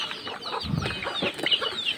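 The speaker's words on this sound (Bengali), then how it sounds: "টপে থাকা মুরগি অলরেডি পাগল হয়ে গেছে খাওয়ার জন্য" Chickens on a top perch cluck eagerly as chopped water spinach is readied as their feed, a short burst of close, busy clucking with a faint flutter.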